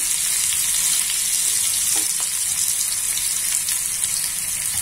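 Chili pieces and onions fry in hot oil for a Maharashtrian winter aamti of fresh pigeon peas. A loud, continuous, hissing sizzle sits close throughout, with a faint knock around the middle.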